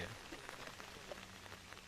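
Light drizzle from the edge of Cyclone Remal patters faintly and steadily, a soft, even hiss of rain with no other sounds standing out.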